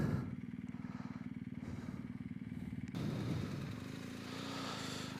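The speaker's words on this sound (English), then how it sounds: "Bikes." Several motorcycles ride past on the Timmelsjoch Pass, a loud, close engine drone with a rapid pulsing beat that shifts in pitch midway as another bike takes over, steady and continuous with no talk.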